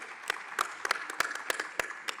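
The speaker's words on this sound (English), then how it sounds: "That deserves a round of applause." Audience applause at a business conference on Africa's growth, a brief burst of many hands clapping together in a hall, moderately loud with sharp individual claps standing out, no talking over it.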